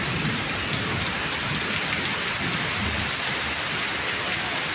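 Steady rain pours down continuously, a dense close hiss of drops on surfaces with no voices.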